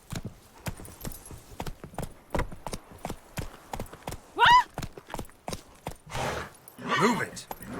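Horse hooves pounding in a rapid, regular galloping rhythm in The Witcher 3, close and prominent, with a brief whinny midway and a voice urging the horse on near the end.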